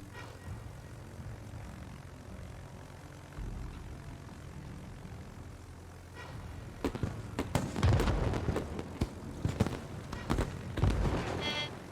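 Propeller aircraft engines drone steadily in a video game air battle, building into louder bursts of explosions and gunfire after the midpoint, with no talk.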